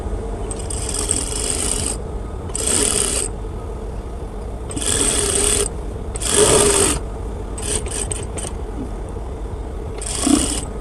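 Sewing machine stitching the side slit of a kameez, running in several short bursts of rapid mechanical whirring and clatter separated by brief pauses, close and fairly loud, with a low background hum and no talking.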